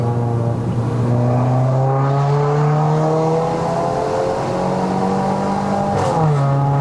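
A VW Golf MK8 1.4 TSI R-Line with a DSG gearbox accelerates hard on a mountain road, the engine note climbing steadily with quick, smooth gear changes and a loud, close cabin drone.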